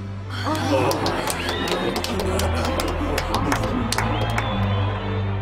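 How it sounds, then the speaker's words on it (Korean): A courtroom crowd erupts in an animated telling of a classic fairy tale, with rising whistles, sharp scattered claps and excited crowd murmur over a low steady hum, all sustained and fairly loud. "판사의 훌륭한 판결에 휘파람과 박수 소리가 터져나왔어요"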